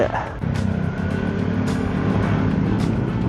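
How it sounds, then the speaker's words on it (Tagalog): Road traffic heard from a helmet-mounted camera: a steady, loud engine and road drone runs throughout, with faint passing whooshes and no talk. "Traffic tayo."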